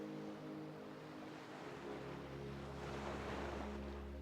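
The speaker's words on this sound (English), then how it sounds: "The boat engine is brought back to life, and you travel onwards around Gili." A boat engine drones steadily while travelling over ocean waves around the Gili Islands, a loud continuous rumble blended with rushing water and wind noise throughout.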